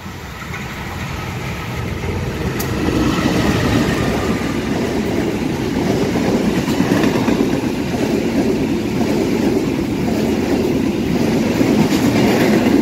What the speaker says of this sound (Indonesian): Kereta api Mataram CC 20407 tujuan akhir Jakarta